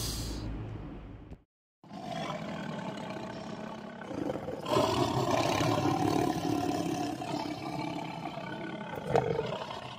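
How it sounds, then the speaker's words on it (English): A tiger gives a loud, rough, sustained roar that swells and continues for several seconds after a brief silence, heard alone and close. "Tiger chomps."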